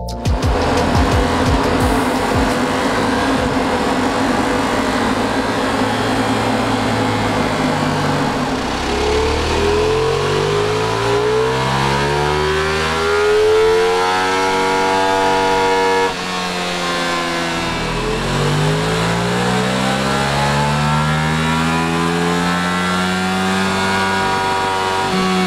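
A remapped Ducati Multistrada V4 Pikes Peak engine with Akrapovic exhaust and de-cat revs hard and long on a dyno, sweeping up in pitch twice to a loud high whine before dropping back, close and sustained.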